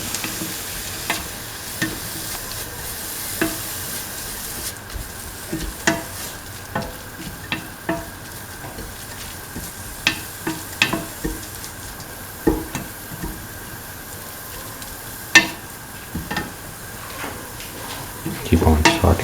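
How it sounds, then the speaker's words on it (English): Grated carrot sautéing in a salted pan: a steady sizzle runs throughout, broken by repeated sharp scrapes and taps of a spatula against the pan, close up, with a louder stir near the end. "Keep on sauteing."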